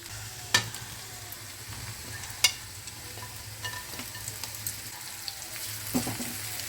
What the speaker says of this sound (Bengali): খুব ভালো করে নেড়ে দিই একবার ভেজিটেবলগুলো